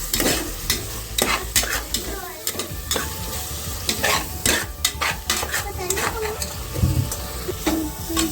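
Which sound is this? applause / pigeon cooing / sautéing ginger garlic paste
sautéing ginger garlic paste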